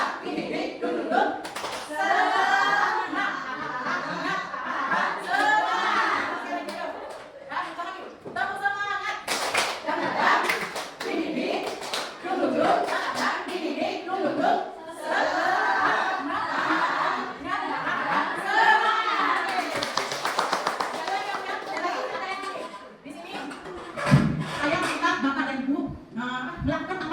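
A group of adults in a training session claps along in a rhythmic spirit-clap pattern, with bursts of hand claps mixed with a leader's spoken cues, chuckles and laughter throughout.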